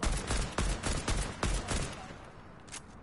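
Rapid bursts of unsuppressed AK rifle fire in a first-person shooter arena match, loud and close, with several sharp shots in the first second and a half, then a quieter tail.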